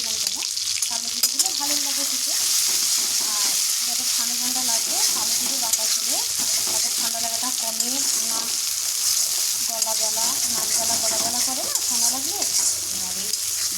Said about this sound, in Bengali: এবার সেই সর্ষের তেলের মধ্যে দিয়ে দেবো এই বাটাগুলো